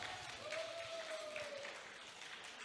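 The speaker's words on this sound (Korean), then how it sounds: "큰 박수 부탁합니다" Audience at a dinner gathering applauding as a professor is welcomed to speak, a soft, steady wash of clapping heard faintly from a distance.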